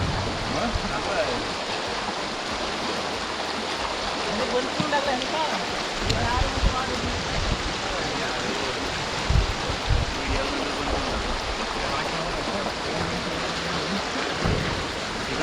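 A village stream in Nagaon, Mahad, in rainy Kokan rushes past in a steady, dense, close wash of flowing water, with faint voices now and then beneath it.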